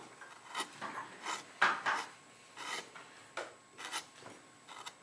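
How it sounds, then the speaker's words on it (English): A V-tool cuts into a wood carving of a caricature pitcher, giving short scraping, rasping strokes in an uneven rhythm, close and moderately quiet, with no voice over them. "I'm going to actually start a secondary cut below it. And you use your V-tool"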